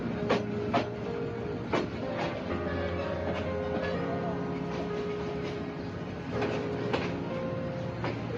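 The Agnibina Express train rumbles and rattles steadily with rhythmic clickety-clack and occasional sharp metallic knocks, a continuous rolling noise up close as it slows entering Mymensingh railway station.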